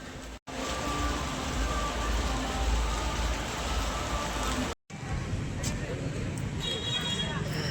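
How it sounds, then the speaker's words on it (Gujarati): Steady rain pours continuously and fairly loud outdoors on the Ashadhi Beej festival day, with a short break in the sound partway through and faint voices near the end. "બહુ મસ્ત મજાનો વરસાદ આવી ગયો"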